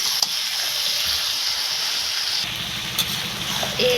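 Meat frying in a pan in a traditional Bengali home kitchen, with a steady bright sizzle and hiss and occasional soft stirring scrapes throughout.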